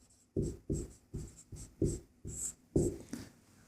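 A pen writes out a probability solution for a Class 10 maths exercise in quick repeated strokes, about nine close, distinct scratches at a steady rhythm.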